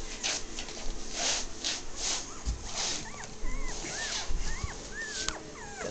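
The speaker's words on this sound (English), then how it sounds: "So who's barking, huh?" A dog gives short yips and rising whines, fairly faint, over quiet background noise with no talking.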